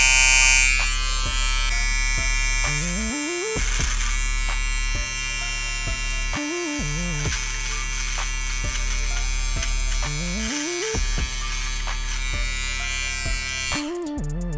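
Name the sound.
Kemei 2299 hair clipper running with Babyliss Lence Pro blades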